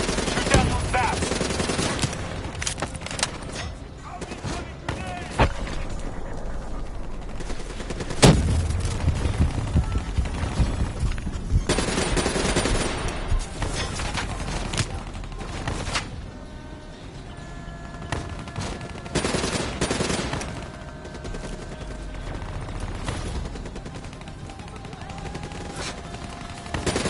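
Rapid machine gun fire in the video game Call of Duty Black Ops 3, loud bursts repeating throughout, blended with dense game effects and background sound.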